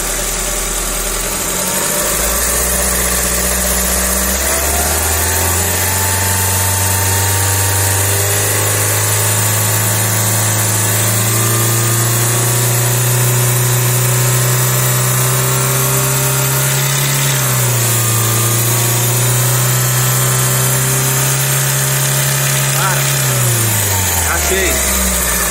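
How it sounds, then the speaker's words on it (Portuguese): Chevrolet Onix 1.0 engine running loud and close in a workshop, its revs rising and holding with a steady mid hum and vibration while a loose accessory belt slaps from a worn tensor; someone talks over it. "A correia folga e bate assim, ó."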